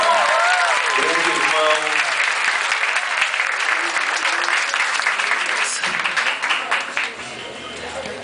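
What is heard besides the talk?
audience applause for Jean Pedroso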